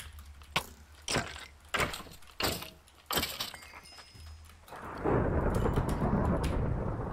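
Thunder rumbles through a Minecraft world, a few sharp cracks and clicks followed by a sustained, loud roll of rumbling noise in the last couple of seconds.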